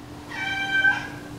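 A cat lets out a single drawn-out, wavering meow close by, loud and clear over a quiet room with no talking.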